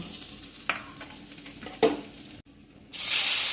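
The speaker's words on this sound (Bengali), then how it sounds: "এই মাছগুলো দিয়ে দিচ্ছি এগুলোকেও ভালো করে ভেজে নেব" Small puti fish (sarpunti) frying in hot oil in a pan, a steady close sizzle with a couple of brief stirring clinks, ending in a loud, bright burst of hissing as more fish go into the oil.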